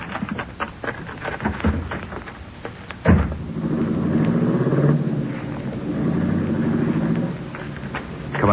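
A sharp door slam leads into a car engine starting and revving as the vehicle pulls away, a rumbling drive-off sound effect in a 1939 old-time radio drama, loud and continuous after the slam.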